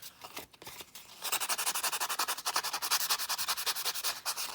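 Paper ephemera edges are rubbed and distressed to look aged, producing close, dry scratchy strokes that start sparse, then settle into a fast, regular back-and-forth rasping rhythm with no talking.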